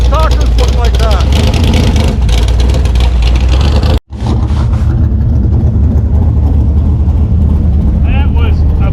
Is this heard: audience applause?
no